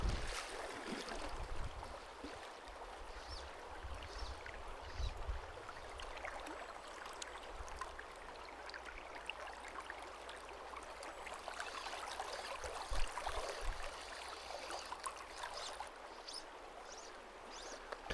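A fast-flowing river stretch where fly fishing with nymphs is under way, giving a steady, broad rushing wash of moving water that holds continuously throughout, with no voices.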